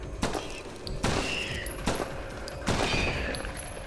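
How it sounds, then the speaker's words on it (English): Gunfire in the survival video game Wicked Seed: about four loud, sharp shots spaced roughly a second apart. Each one is a close burst with a short ringing tail, heard alone without voices. "And now I'm gonna shoot 4 times."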